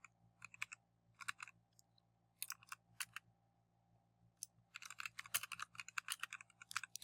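Someone types a page title on a computer keyboard in short, quick bursts of key clicks separated by pauses, with a denser run near the end, quiet and close against a faint background hum.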